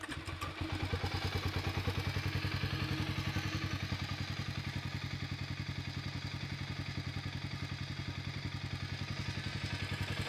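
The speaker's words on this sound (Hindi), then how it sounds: "बार स्टार्ट करके मैं आप लोगों को एग्जॉस्ट साउंड सुना देता हूँ दोनों बाइक की।" A Harley-Davidson X440 or Hero Mavrick 440 motorcycle idles steadily up close, its exhaust putting out an even, rapid train of thumping pulses that holds constant throughout.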